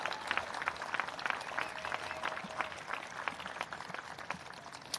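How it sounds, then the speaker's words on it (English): Audience applause at a municipal band concert in Peoria, a dense, steady wash of clapping from the crowd that rises and tapers over several seconds. "Carl Anderson, give him another round of applause back there"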